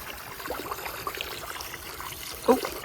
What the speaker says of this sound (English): I have the hot water coming in right here